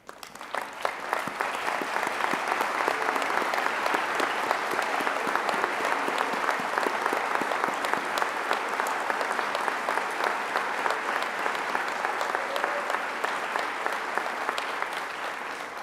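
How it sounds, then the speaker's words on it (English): Sustained applause from a large indoor audience at a law school commencement ceremony, dense and even clapping that swells quickly and holds steady for the whole stretch. "Would the parents and guardians of the graduates please stand for applause?"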